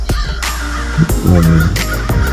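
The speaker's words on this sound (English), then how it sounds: "I was startled by some crows" Crows cawing back and forth near a lake in the morning, several loud harsh calls in quick succession with no talking.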